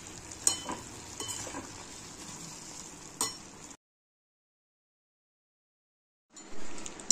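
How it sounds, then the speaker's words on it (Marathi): Cherries simmering in sugar syrup in a pan, a steady soft bubbling sizzle with occasional clinks of a utensil, cutting out to silence midway before resuming briefly. "हे साखरेच्या पाकामध्ये याला डीप केले आणि शिजवून घेतोय 5 मिनिटासाठी"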